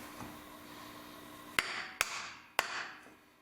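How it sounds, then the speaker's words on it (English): Three sharp hammer strikes on a 2x4 ring out in quick succession, each a crisp nearby knock with a short decay, following a quiet stretch of background hum. "you can just go along with it with the hammer"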